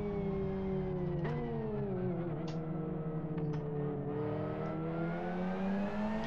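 Several race cars in the Live For Speed racing game, heard as a steady, loud, layered engine drone with shifting revs as the cars run together, with no talk over it.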